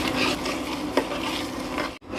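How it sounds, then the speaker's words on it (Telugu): A spoon stirs jaggery and sugar melting together in a pot for chakkera pongali, a steady scraping and bubbling texture with a brief clink near the middle, close and continuous. "ఇప్పుడు ఈ బెల్లం పంచదార కరిగే వరకు కలుపుకుంటూ ఉండాలి"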